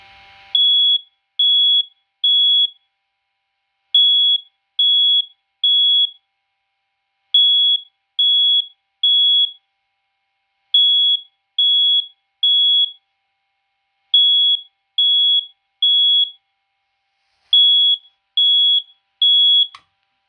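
A smoke detector set off with aerosol test smoke, chirping in a loud, piercing pattern of three high beeps followed by a pause, repeated steadily for about twenty seconds.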